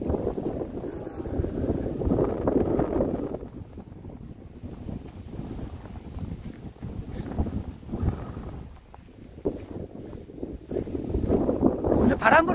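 Wind gusting steadily across an open mountain paragliding launch site, a broad rushing roar that swells and eases throughout, loud and close on the microphone, with brief talk near the end.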